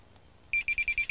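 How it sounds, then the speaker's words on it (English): A Minelab metal detector emits a series of sharp, high electronic beeps in a quick regular rhythm, loud and close, after a short quiet pause. "You hear that long drawn out beep there? That's telling me that I am on full"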